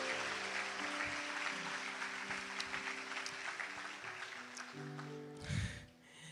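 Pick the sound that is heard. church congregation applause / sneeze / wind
church congregation applause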